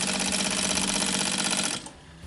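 A sewing machine running a binding attachment stitches fast and evenly, a dense rapid mechanical chatter that holds steady, then stops abruptly near the end, leaving quiet room noise.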